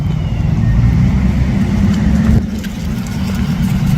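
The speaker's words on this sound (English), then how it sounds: "His car is literally on still." A parked car's engine idles continuously as a low, steady rumble that stays close and fairly loud, with a brief shift partway through, outside during a roadside police stop.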